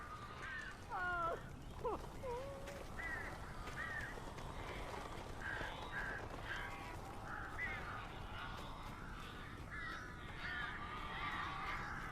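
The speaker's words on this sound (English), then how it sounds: "These birds are weird." Crows cawing inside the video game Alan Wake Remastered, several harsh caws overlapping over a steady background ambience, moderately near, with some caws sounding farther off.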